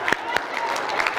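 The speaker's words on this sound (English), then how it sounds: "give him a round of applause" Brief applause from an audience at a speaker showcase event, a short burst of scattered claps mixed with voices, moderately close.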